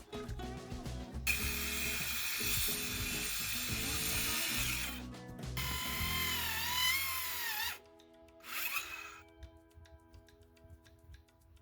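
Small electric saw cutting a wooden beam for a greenhouse roof, a loud continuous whine across two long runs with its pitch dipping under load, then a short final burst before it winds down.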